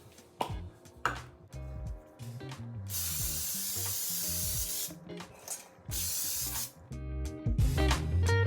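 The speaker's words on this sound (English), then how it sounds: "this is the baking pan. All right, so we're gonna spray it." Cooking spray hisses onto a cake baking pan in several bursts, one long and others short, with clinks and knocks of handling the pan and can between sprays, close up with no talk.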